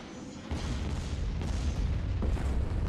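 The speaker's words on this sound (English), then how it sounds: "Here comes our bombing run." Heavy booming explosions from a bombing run in Star Wars: Empire at War, a dense rumbling roll of low blasts that swells and keeps going, loud and continuous.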